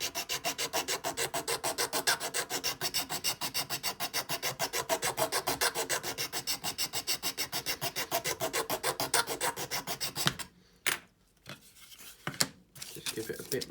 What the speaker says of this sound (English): Just give it a bit more sand